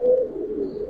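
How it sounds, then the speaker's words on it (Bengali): A Giribaz pigeon, a Sapchila male in a loft, gives a low, steady, rolling coo close by, continuous for the whole moment with no talk. "এটা একটা সাপচিলা কবুতর, মানে হেরিকেন কোয়ালিটি"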